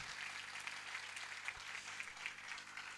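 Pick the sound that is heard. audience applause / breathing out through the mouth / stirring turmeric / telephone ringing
audience applause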